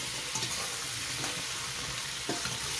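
Cubed butternut squash is stirred into a soup pot, a soft scraping and shuffling with a faint sizzle underneath, steady and close, with a few louder stirs and no speech.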